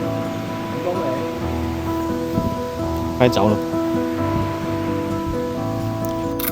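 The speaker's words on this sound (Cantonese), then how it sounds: "呢一段路真係好似熱帶雨林，特別係撞啱落雨，落大雨。" Heavy summer rain hisses steadily through dense forest on Hong Kong's MacLehose Trail Section 2, a continuous close wash with a faint hum beneath and brief hiker voices calling out.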